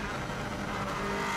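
A 2016 Subaru WRX STI accelerating hard on the Isle of Man TT road course, its engine a loud, dense, continuous roar recorded close up, with no voices over it.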